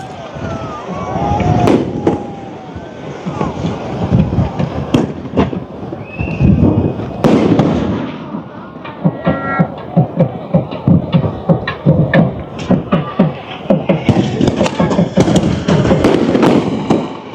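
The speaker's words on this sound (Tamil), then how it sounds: "ஆலய கோபுரத்தோட அம்பாள் நகர்ந்து நகர்ந்து வர வர வான வேடிக்கைகள் எங்குமே பார்க்க முடியாத அளவுக்கு வான வேடிக்கைகளை பார்த்து கொண்டிருக்கிறோம்." Rapid volleys of fireworks and firecrackers crack and thump during a temple festival procession on Nainativu island as the goddess is carried near the temple tower, the bursts loud and irregular over a murmuring crowd.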